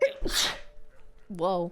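A single sharp sneeze bursts out near the start, followed shortly by a short exclaimed word from a voice.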